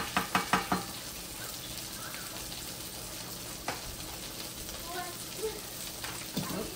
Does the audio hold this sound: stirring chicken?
yes